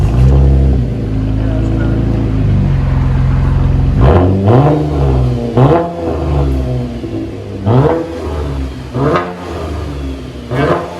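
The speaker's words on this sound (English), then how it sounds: "So this is after a muffler delete and a resonator delete." A 2012 Chevy Impala V6 with dual exhaust, muffler and resonator removed, idles with a low rumble, then is revved repeatedly in sharp, loud bursts that rise and fall, recorded up close.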